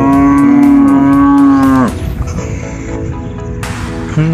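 A large herd of cattle on a char in the Padma river, with one loud, close, drawn-out moo lasting nearly two seconds, then open-air noise and a brief lower call from another cow at the end, without talking.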